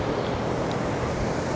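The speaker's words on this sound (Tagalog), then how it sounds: "Sobrang lakas po ng hangin" Strong wind blows across a crowded beach, a dense, steady roar of buffeting gusts and microphone rumble blended with surf, loud and continuous with no voices.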